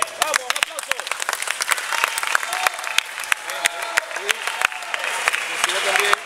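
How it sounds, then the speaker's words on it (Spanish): Sharp, dense clapping from an audience at a minibasketball league trophy ceremony, steady and fairly close for several seconds, with voices mixed in underneath. "vamos, un aplauso"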